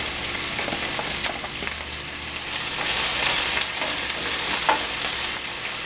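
Green and red pepper, scallion, thyme, onion and pimento seed sizzle steadily in a hot pan for a Jamaican baked fish and okra dish. Continuous loud frying hiss runs throughout, with repeated scraping stirs and no talking.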